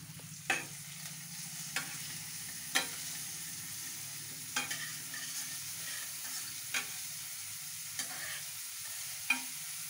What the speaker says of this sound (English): So now I would stir it a little bit.